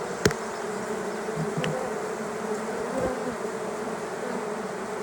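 Honeybees crawling calmly around a caged queen in a colony, a close, steady insect buzz throughout with a few brief sharper ticks.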